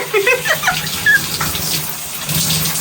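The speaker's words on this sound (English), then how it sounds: "Oh, we got a shower!" Water gushing from a shower head on a temporary off-grid tiny house water setup, a steady broadband spray heard close and continuous, with a brief squeak near the start.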